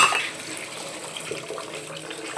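Tap water runs into a kitchen sink basin as dishes are rinsed, a steady close splashing hiss that continues without pause and with no voices.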